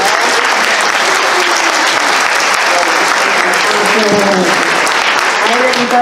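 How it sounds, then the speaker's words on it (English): A loud, dense burst of audience applause and cheering at a charity event at a furry convention, sustained and close, with excited voices mixed into the crowd noise. "Give him a round of applause!"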